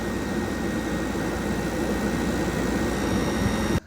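A heater blower fan motor from a 1993 Range Rover Classic, with squirrel-cage fan, running on test as a loud, steady whooshing whir that cuts off abruptly at the end.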